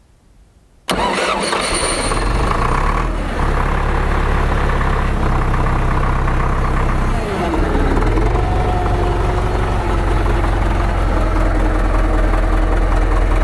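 A YuMZ-6 tractor engine, just fitted with a starter in place of the pony motor, fires on its first start and settles into a loud, steady diesel running that holds for several seconds, with people talking faintly over it.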